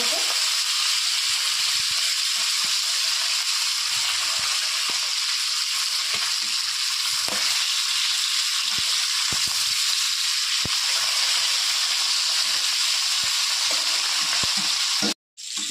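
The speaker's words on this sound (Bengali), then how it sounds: "মাছটা এবার উল্টে দেবো আর একটু এক ভাজা হয়ে গেছে ভালো" Khoira fish sizzling steadily in hot oil, a dense continuous frying hiss with occasional soft clicks of the pan, close and unbroken until a brief cut near the end.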